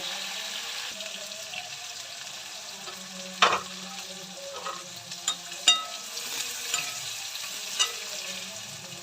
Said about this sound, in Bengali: মাছটা ভালো করে ভেজে নেই